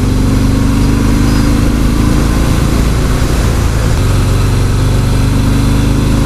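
A 2018 Harley-Davidson Fat Bob Softail motorcycle engine runs on a test ride, a loud, steady low rumble with a throbbing beat and a slight dip in pitch midway, continuous and close with no talk.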